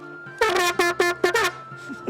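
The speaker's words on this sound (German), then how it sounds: "Jedes neue Mitglied kriegt die Tröte." A toy horn tooting in the tavern game Tavern Master, five loud, close, buzzy honks in a quick uneven series, then a fainter tail.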